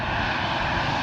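A DHL cargo plane passes overhead during paddock arrivals, its engines roaring in a steady, loud, close broadband rumble that fills the whole second without a break.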